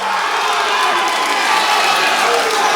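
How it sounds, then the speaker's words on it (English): Crowd at an amateur MMA light heavyweight title fight roaring after a come-from-behind victory, a dense, loud, sustained wash of cheering and shouting with no breaks. "And the crowd goes wild."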